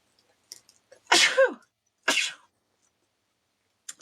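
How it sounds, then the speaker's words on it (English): One person lets out two sharp sneezes about a second apart, the first with a rising pitch at its tail, the second shorter, both close and fairly quiet, with tiny breathy sounds before and after. "I'm going to sneeze."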